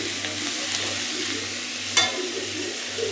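A pan of vegetable curry with lentils and crushed peanuts being stirred, giving a steady low sizzle with soft scraping strokes and one sharper clink near the middle.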